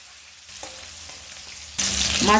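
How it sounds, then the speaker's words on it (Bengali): Snakehead fish slide into hot mustard oil over a high flame: after a quiet moment with faint clicks, a loud, bright sizzle bursts up and keeps crackling close by, with no talk. "মাছগুলো আমি হালকা লাল করে ভেজে নেব"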